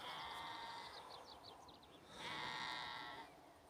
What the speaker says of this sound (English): If that's a sheep or it's a goat